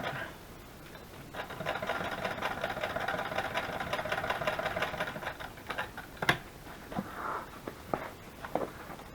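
A sewing machine runs in a steady rapid stitching burst for several seconds, then stops, followed by a few scattered clicks and handling noises, fairly quiet and with no talking.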